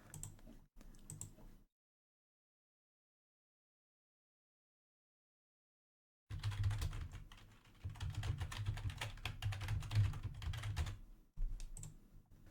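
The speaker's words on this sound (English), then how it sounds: "So here you're gonna type in your data." Computer keyboard typing in quick continuous bursts of close, crisp key clicks, a short run at the start, a long silent gap, then a sustained stretch of steady typing.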